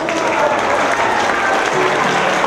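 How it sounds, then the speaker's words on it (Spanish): Sustained applause from an audience at an artistic performance and closing ceremony, dense and steady throughout at close range with no pauses. "Ese aplauso"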